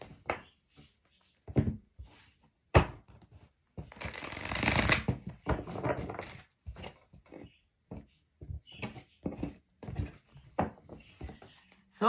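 A deck of energy oracle cards is shuffled by hand, with a long riffling flutter in the middle framed by scattered card slaps and taps, close and clear with no talk.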